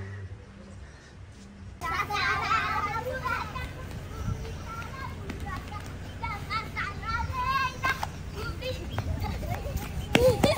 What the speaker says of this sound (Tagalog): nandito po ang mga bata